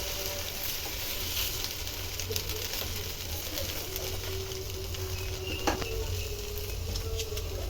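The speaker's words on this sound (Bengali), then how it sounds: "আবার রুটিটা তেল দিয়ে দিলাম" Roti fries in oil in a pan with a steady, even sizzle throughout, close by and moderately loud, with faint clinks of a utensil on the pan now and then and no talking.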